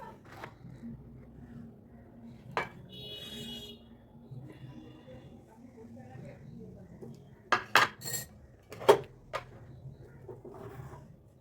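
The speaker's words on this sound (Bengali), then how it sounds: "আমার পাস্তাগুলো তৈরি হয়ে গেছে আমি এবারে প্লেটিংয়ে তুলে নেবো" Potato pasta is plated at home with plates, a pot and cutlery knocking and clinking, a few scattered taps early on and a cluster of sharp metallic clinks near the end, with quiet background noise.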